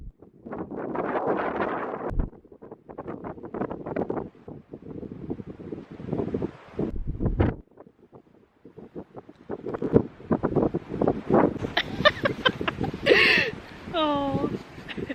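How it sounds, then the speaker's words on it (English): Strong gusting wind buffets the microphone on Coral Beach, Isle of Skye, rising and falling in rough bursts under ongoing talk from people nearby. "it's very windy, isn't it?"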